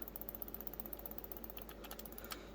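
Low-action face buttons on a game controller clicking like a mouse, a steady fast run of crisp small clicks close up, ending with a few sharper presses, no talk.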